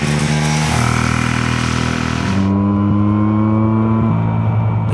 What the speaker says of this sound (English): This 1970s wankel rides smoother than my new Beamer.